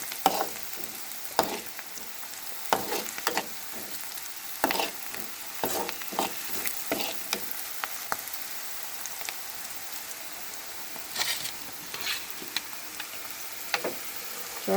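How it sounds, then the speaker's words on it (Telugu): Green chilli and onion fry in oil in a pan with a steady light sizzle, while a spoon scrapes and stirs them in sharp, irregular clacks throughout, close up and with no talking. "పచ్చిమిరపకాయ ఉల్లిపాయ బాగా ఎర్రగా వచ్చే వరకు తిప్పుతూనే ఉండాలి"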